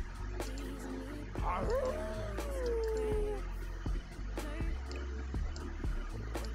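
A lone wolf howl in The Sims 4 rises and bends into a long, fairly loud wavering tone, heard alone in an eerie night setting over a low ambient bed with scattered soft clicks.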